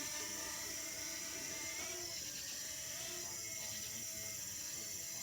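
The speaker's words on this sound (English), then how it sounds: "right now I am flying the drone." A small camera drone flies overhead with a steady, high whining buzz of spinning propellers that holds level and loud throughout, with no talk over it.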